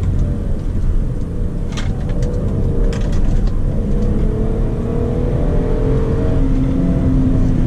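A Hyundai Azera's 3.3-litre V6 pulls in second gear on a country road, its steady engine drone heard from inside the cabin with rising tones as it accelerates, mixed with road rumble.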